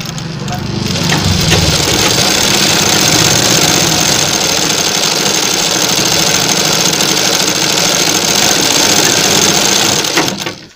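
A sewing machine runs steadily for about ten seconds, loud and close with a continuous motor whir, stitching a single line of rolled hem along a fabric frill for a sleeve design.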